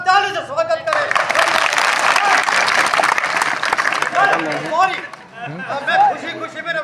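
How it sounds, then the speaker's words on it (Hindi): Audience applause welcoming a candidate at a political gathering, with a crowd clapping loudly and steadily for several seconds, mixed with chatter and a voice speaking over it toward the end. "इनका आप ताली से स्वागत करें"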